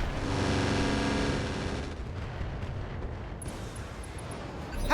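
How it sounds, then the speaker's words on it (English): A rocket pack firing in the mech game RogueTech, a heavy roaring volley that swells loudly then trails into rumbling impacts and debris, with no talk over it. "We're going to fire the rocket pack, and this is likely a kill."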